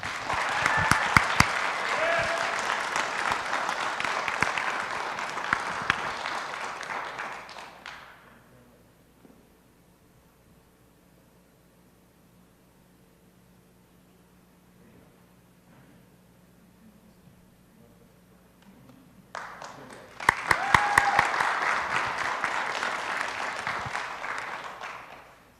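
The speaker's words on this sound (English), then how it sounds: "Please give Derek a round of applause" Audience applause at a city council meeting for an employee spotlight award, a loud burst of clapping that falls to near silence, then a second strong round of clapping rises again near the end.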